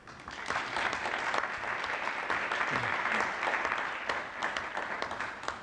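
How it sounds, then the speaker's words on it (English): An audience claps steadily for the Pearly Youth Project, a dense and fairly loud wash of applause that holds evenly throughout. "Give them a round of applause."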